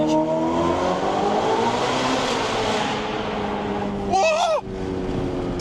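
A sports car in a tunnel downshifts gently, its engine note rising and falling in loud reverberant revs with a sharp blip near the end, while people talk over the engine.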